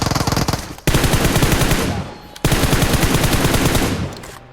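Rapid bursts of automatic gunfire in PUBG Mobile, two long sustained volleys with a short pause between them, loud and close.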